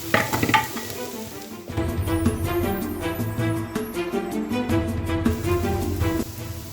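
Carrots and other vegetables sizzle and get stirred in a hot pan for a chicken fried wrap filling, a steady, close crackle that continues throughout alongside background music.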